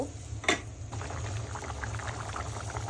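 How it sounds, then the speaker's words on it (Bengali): Broth poured into a pan of fried potato curry, a brief splash then a steady low bubbling and sizzling simmer, close and moderately quiet. "এখন রান্না করার জন্য ঝোল দিয়ে দিব এই যে ঝোল দিয়ে দিচ্ছি"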